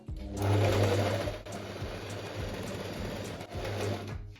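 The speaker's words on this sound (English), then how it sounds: "I will overlock the short sides again, all 4 of them, and then we will sew it together" An overlocker sews the short sides of dress fabric with a steady, close mechanical whir. It runs in two long bursts with a brief slowdown between them.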